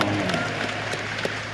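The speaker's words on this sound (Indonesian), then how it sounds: "Tepuk tangan dulu" Applause from an audience at a Gresik regency gathering on curbing illegal cigarettes, a steady continuous patter of clapping lasting throughout.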